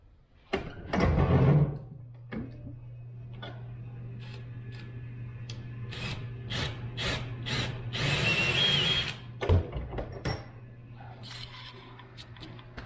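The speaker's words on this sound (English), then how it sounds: "now I'm going to drill right in the middle for the lathe center" A drill boring a center hole in a curly maple canoe paddle blank for a lathe center, with a steady low motor hum and a bit grinding into the wood, plus a few sharp knocks and clicks.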